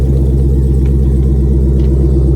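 The supercharged engine of a salvage Dodge Challenger Hellcat with a damaged rear runs in a constant, heavy, low rumble. It is loud and close, with no voices.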